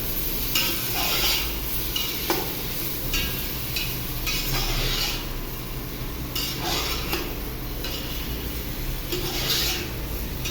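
Stir-frying in a Healux cookware pan while cooking paneer biryani: a steady sizzle under repeated scraping and clinking of a utensil against the pan, strokes arriving every second or two, close and clear, without speech.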